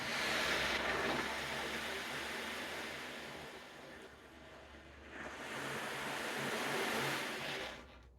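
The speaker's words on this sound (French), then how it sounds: "vous montrer le tambour. Comme ça. Il fait le bruit des vagues." An ocean drum tilted slowly during an energy-healing session, its rolling beads producing a soft wave-like wash that swells, ebbs, then surges again before cutting off, quiet and alone.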